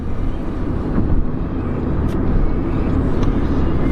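Steady low rumble of a car driving, heard from inside the cabin, a constant engine and road drone with slight swells and no voices.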